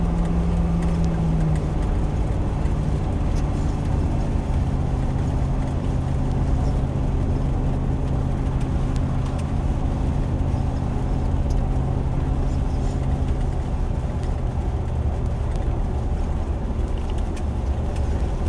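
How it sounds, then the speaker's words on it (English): A steady, loud Land Rover Defender 90 50th Anniversary engine drone with low rumble, heard from inside the moving vehicle, holding an even pitch throughout with no talking. "Engine certainly feels like it's in fine fettle."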